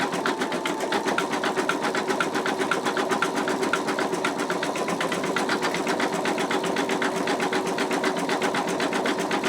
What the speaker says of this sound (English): I am really happy with the stitching so far.